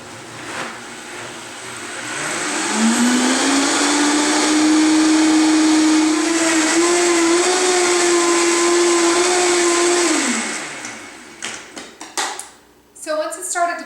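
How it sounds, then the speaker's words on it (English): Blender mixing a green smoothie, its motor rising in pitch as it spins up and then whirring steadily for several seconds before cutting off, followed by a few clattering knocks. "So start on low and then blend it for 30 to 60 seconds at a time until it's really well blended."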